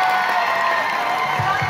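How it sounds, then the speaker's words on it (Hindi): Loud audience applause at the Ratnawali 2023 event, a dense, steady wash of clapping mixed with crowd cheering, with a few low thumps near the end. "एक बार जोरदार तालियां हो जाए।"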